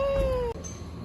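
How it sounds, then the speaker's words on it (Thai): A cat at a cat cafe lets out one clear, drawn-out meow that falls slightly in pitch, close and loud, then breaks off abruptly into quiet room noise. "แมวอยู่ข้างบนหัวก่อนนะ"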